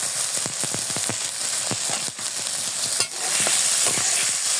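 Green chilies and mashed taki fish are stirred and pressed in a hot pan, giving a steady loud sizzle with repeated sharp scraping strokes of the spatula throughout.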